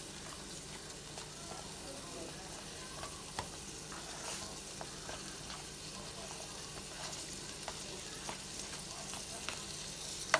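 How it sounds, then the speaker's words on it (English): Onions sweat in a pan over medium heat for a cheese shrimp chipotle discada, making a soft, quiet, continuous sizzle with light stirring clicks throughout. "just sweat those onions down until they are somewhat tender"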